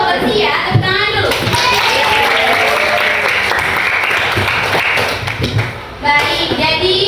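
Children clap their hands together in a classroom, a dense, steady burst of applause that holds for several seconds before briefly thinning and picking up again, with young voices mixed in underneath.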